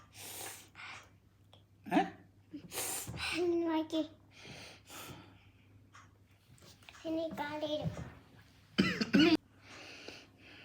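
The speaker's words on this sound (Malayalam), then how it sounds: "ചെറിയ ചുമയുണ്ട്." A child coughs several times in short bursts, close by, with brief breathy gasps and some talking in between.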